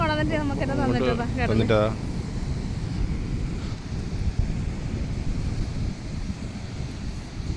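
Sea waves washing up a beach after heavy rain, a continuous broad rushing wash mixed with wind buffeting the microphone, with a person speaking briefly at the start.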